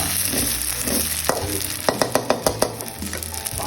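Yellow noodles and egg stir-fry in a hot pan: a loud continuous sizzle broken by a quick run of sharp spatula clacks against the metal, with no talking.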